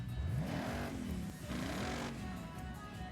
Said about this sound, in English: the real thing actually kind of have the exhaust note like this as well.